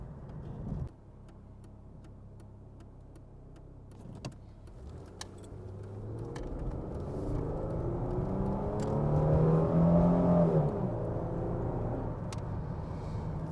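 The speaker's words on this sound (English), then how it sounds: "So how does the VY accelerate?" A 2003 Holden VY Lumina with its V6 engine pulls away from near idle, the engine note building steadily into a loud, rising drone that peaks near the end before easing off, heard from inside the cabin with no one talking.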